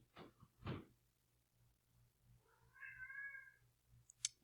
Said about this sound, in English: That is the cat.